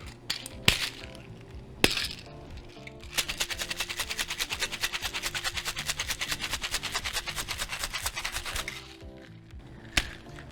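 Ice rattles rapidly in a cocktail shaker as a lychee martini is shaken, a dense steady rhythmic clatter lasting several seconds between a few sharp knocks before and after.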